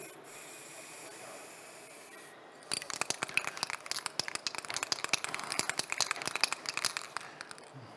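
Acrylic gloss lacquer is rubbed onto a workpiece spinning on a wood lathe, a quiet motor hum giving way to a dense run of soft, scratchy friction strokes.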